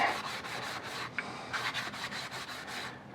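Rhythmic hand sanding of painted metal rifle handguards with a sanding sponge, distressing Rhodesian-pattern camouflage paint to bare metal; steady close rasping strokes repeat back and forth with brief pauses, no talking.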